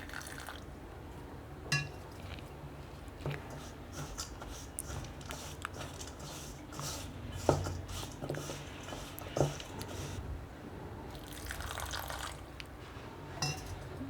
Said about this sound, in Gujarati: થોડું એમાં પાણી એડ કરશું